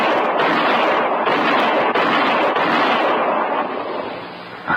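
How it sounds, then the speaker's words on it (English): Gunshots in a Western radio drama play as a dense, loud barrage of booming reports with no pauses between them, easing off slightly toward the end. "that's mighty fine shooting, Mr. Kendall."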